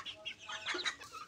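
Chickens clucking at close range on a rural household farm, a quick run of soft overlapping clucks and chatter with no voices.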